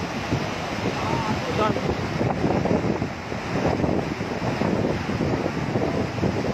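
Water surges forcefully through a dam gate as a loud, continuous roar close by, holding a steady churning intensity for several seconds.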